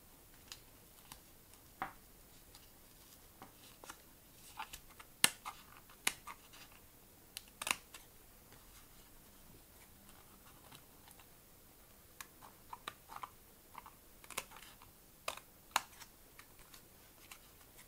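Scissors cutting paper for a stained-glass style Christmas ball craft: faint, crisp snips scattered irregularly across a quiet background, with no talking.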